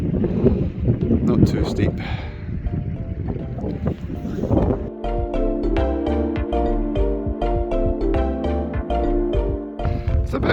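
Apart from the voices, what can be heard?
wind in a mountain corrie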